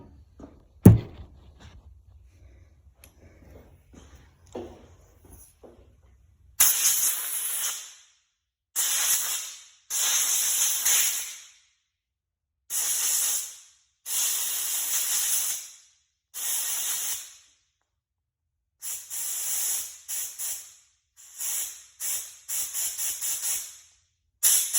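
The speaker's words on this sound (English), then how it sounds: "I'm gonna blow the carburetor out." Compressed air is blown through a Murray lawn mower carburetor in a dozen or so short, sharp hissing bursts, some clustered in quick pairs, after a few quiet handling knocks.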